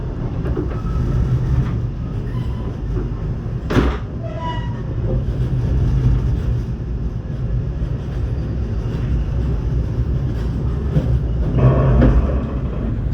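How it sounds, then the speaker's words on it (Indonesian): The Gaya Baru Malam Selatan passenger train runs along the rails with a steady low rumble and rolling clatter heard from on board, with a brief sharper burst partway through and a swell of noise near the end. "kereta api gaya baru malam selatan tiba di stasiun Perubuk"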